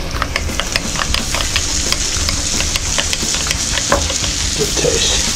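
Burger meat frying in a pan while it is mixed, a loud, steady sizzle close by with scraping and stirring ticks throughout and no talking.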